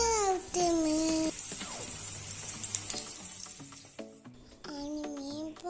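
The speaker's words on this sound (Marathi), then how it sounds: "आणि मी pomfret फ्राय करते." Pomfret fish sizzling as it fries in a pan, steady crackling frying noise beneath brief high-pitched child or baby vocal sounds.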